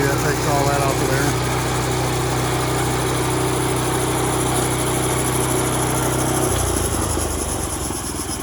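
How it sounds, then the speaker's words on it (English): A sawmill engine running steadily and loudly with a constant droning hum and buzz, its low tone dropping abruptly near the end as the engine note changes. "First time we've had the mill fired up this year"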